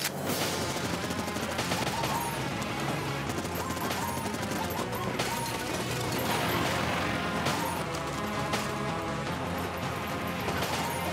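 Rapid gunfire bursts and crashing impacts from the Enter the Gungeon game trailer, loud and continuous over a dense, busy music and effects mix with no pauses.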